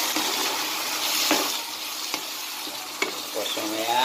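Youngstown canned sardines frying in a pan, a steady close sizzle with utensil scrapes and taps as they are stirred, a few sharp clicks standing out.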